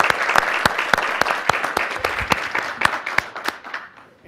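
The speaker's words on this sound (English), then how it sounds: "a big hand of applause" Audience at a medical conference session on Fontan-associated liver disease applauding steadily, dense clapping with a few louder individual claps standing out, close and loud, fading slightly at the end.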